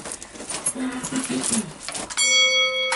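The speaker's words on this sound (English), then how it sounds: "I have to ring the bell first to let him know we're actually ready" A bell rung to call an elevator gives a single clear, sustained ring near the end, after a stretch of speech and shuffling sounds.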